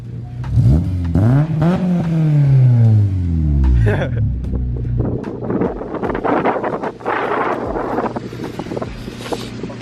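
A car engine revs up hard with a deep, throaty roar from an aftermarket 70mm exhaust, then settles back to a rumbling idle, with people chatting over it.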